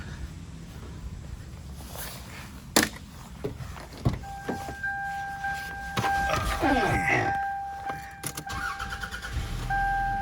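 A new Dodge Charger at a dealer-only car auction is started, a brief crank followed by the engine catching and a warning chime tone sounding steadily, close by, with people talking around it.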